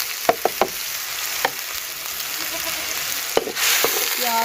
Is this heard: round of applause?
no